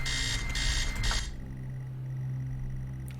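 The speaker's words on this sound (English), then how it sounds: "Turn off the bloody alarm, I want to go back to bed!" An alarm clock rings in the game Stories Untold: a loud, rapid electronic beeping in three quick bursts, then it cuts off, leaving a low steady hum and faint tones.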